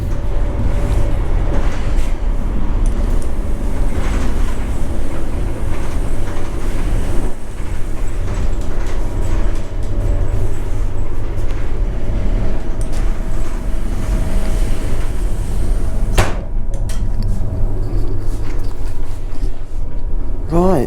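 Steady interior rumble and hiss of a Trenitalia Frecciarossa 1000 high-speed train running from Milan to Venice, heard from inside a business class carriage and onboard toilet, constant and loud throughout with a brief clunk near the end.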